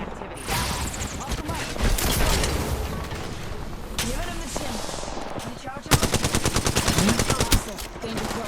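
Rapid automatic gunfire in an Apex Legends match, loud sustained bursts with sharp repeated shots and a dense burst near the end, while players shout over the action.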